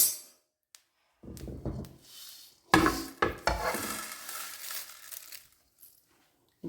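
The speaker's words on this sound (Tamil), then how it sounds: "இப்போது கருவேப்பிலை நல்லா பொரிய ஆரம்பிச்சிருச்சு" Curry leaves, cumin and fennel crackle and fry in a pan for a curry leaf pepper chicken spice mix, in loud irregular bursts of popping and stirring, then fading into near silence.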